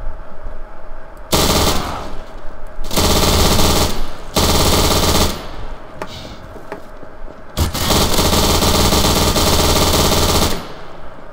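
An MG42 machine gun in Garry's Mod fires in four long, loud, close bursts of rapid automatic fire separated by short pauses, with no speech.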